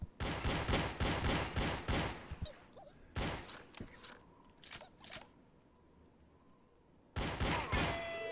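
Gunfire in the PC game Eva Cash: D.I.R.T. Project, a rapid burst of sharp close shots for about three seconds, then scattered single shots, a quieter stretch, and another loud volley at the end.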